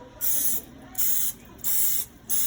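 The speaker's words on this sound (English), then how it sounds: "you're going to spray just a little bit, just like that." Four short bursts of cooking spray hiss in quick succession, close and crisp, separated by brief pauses.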